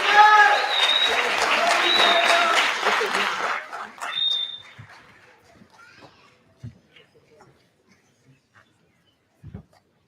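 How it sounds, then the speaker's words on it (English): An audience at a Kwanzaa celebration applauds loudly and steadily, with some cheers mixed in, then the clapping dies away into scattered quiet sounds and a few faint voices. "Let's give them a round of applause."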